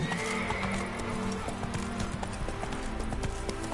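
Roach, the horse in the video game The Witcher 3, gallops with rapid, driving hoofbeats and whinnies loudly, up close, with game music and ambience beneath and no talk.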